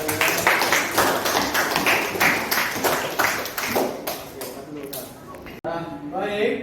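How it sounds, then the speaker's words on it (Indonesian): Students clapping in an Indonesian Islamic religious education class: several seconds of quick, crisp hand claps, then a short break and a voice speaking. "Baik, tepuk tangan."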